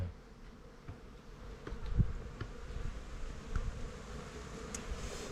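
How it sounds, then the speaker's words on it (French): A honeybee colony hums at its hive in December, a soft, steady buzz with occasional louder individual bees passing close, and no voices. "il y a de l'abeille"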